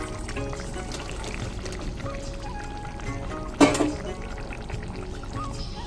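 Small fish dropped into a simmering potato curry for a Bengali small-fish jhol, with one brief splash and pour over a steady bubbling simmer.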